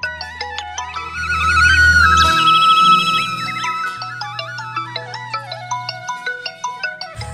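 A mobile phone plays a loud electronic melodic ringtone up close, with a sustained warbling passage and then a run of short repeated beeping notes that continue to the end.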